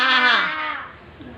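A child imitates a goat's bleat with a single wavering, nasal vocal cry that slides downward and fades over about a second.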